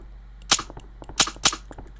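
Rifle shots fired into the ground in a video game crack out as three sharp, close reports, uneven in spacing, with faint clicks in between and no talking.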